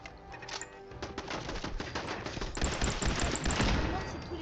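Automatic turret machine-gun fire aimed at the player in Fallout 4, a dense, fast rattle of shots that runs continuously and loudly across the whole stretch.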